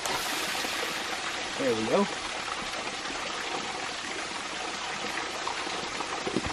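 Water pressure hisses and sprays steadily from a valve on a ram pump's delivery pipe, a continuous close rush of water with a brief spoken remark partway through.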